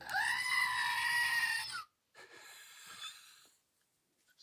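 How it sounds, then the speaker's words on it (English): A screaming goat novelty toy lets out one loud, drawn-out bleating scream, followed by a shorter, fainter squawk and then near silence. "Does he have an extra screaming goat to go in the Milwaukee backup?"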